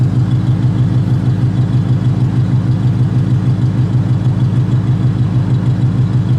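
The V8 engine of a 1941 Cadillac custom limousine idles smoothly and quietly with a low, even, rhythmic burble that stays constant and close throughout.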